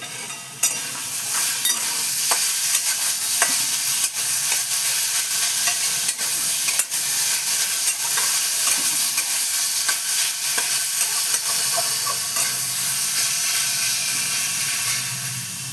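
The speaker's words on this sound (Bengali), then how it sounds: "দিয়ে এবার একটুখানি নাড়াচাড়া করে নিই" Sour kachu flower dish with green chilli and sugar stirred in a pan, a steady loud sizzle and hiss with scattered scraping spatula strokes throughout, no talking.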